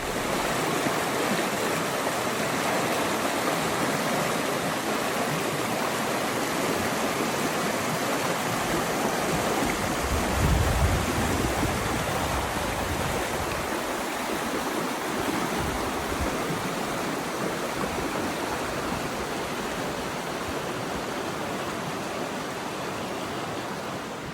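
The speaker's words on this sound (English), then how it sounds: "I'm down here in some swift water" Swift water in a clear trout stream rushes past, a broad, steady hiss and roar that holds at an even level throughout, close by and with no voices.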